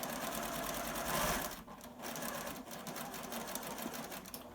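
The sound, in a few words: sewing machine stitching across elastic on a face mask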